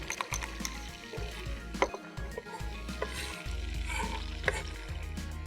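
Fish frying in a pan, a steady crackling sizzle with occasional clicks and scrapes, fairly close and continuous with no talk.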